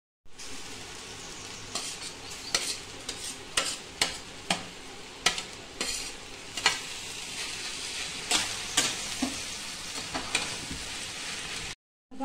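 Raw mango pieces fry in ghee in a wok, giving a continuous close sizzle. A spatula stirs and scrapes through it with a dozen or so sharp, irregular clicks, and the sound stops suddenly near the end.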